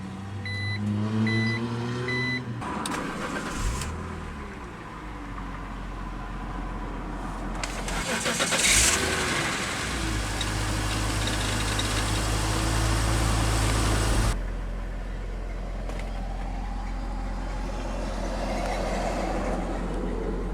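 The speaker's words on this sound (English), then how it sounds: "let's go ahead and start up that straight six" A 2005 BMW Z4 3.0i roadster's straight-six engine cranks briefly, catches with a rising revving flare, then settles into a steady, close low idle that continues alone for the rest of the stretch.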